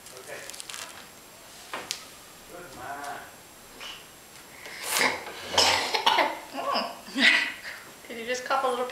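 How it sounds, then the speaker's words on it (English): A young child coughs several times in short, close bursts, mixed with small vocal noises and faint chatter. "Did you just cough a little pear out?"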